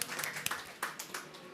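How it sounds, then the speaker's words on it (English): A brief burst of scattered audience clapping at a COP27 side event session in India, a few sharp claps from a small group, quick and uneven, fairly faint. "let's clap for the correct answer"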